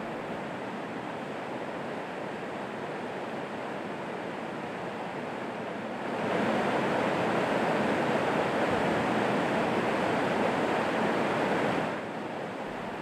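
Rapids of the wild Chulyshman mountain river in Altai roar as a steady, dense wash of rushing water that swells louder midway before easing back, with no voices.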